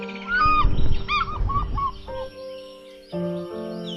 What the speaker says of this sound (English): I could hear this call of an African fish eagle flying in